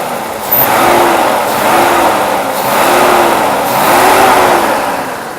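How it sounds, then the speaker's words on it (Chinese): A Mercedes W126 420 V8 revved after fuel distributor repair work, climbing and falling in four quick, even blips over a steady idle, loud and close. "这转速反应非常迅速"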